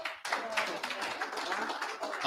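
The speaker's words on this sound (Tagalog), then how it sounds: "Palakpakan natin si Sir Florencio. Palakpak, palakpak." A group at a live training session claps for Sir Florencio, a dense burst of fairly soft clapping that holds steady for a couple of seconds.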